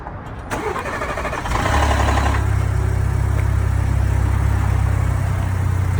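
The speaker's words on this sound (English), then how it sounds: "I'm about to start my car. It's been making some rattling sounds, mostly after it's been sitting for 4 or 5 hours." A Ford Expedition that rattles after sitting for hours cranks briefly, then catches and settles into a steady, close, loud idle with a rough mechanical rattle underneath, no voices.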